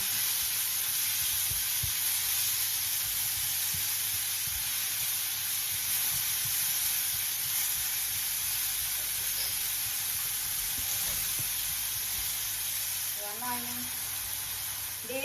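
Mushrooms stir-fried in a pan give a steady, close hiss of sizzling oil across the whole stretch, with faint scraping and a short voice near the end.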